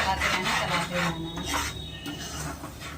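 A utensil scrapes and rasps against a pan while mung dal roasts, rhythmic rubbing strokes up close and fairly loud, with no talking over it.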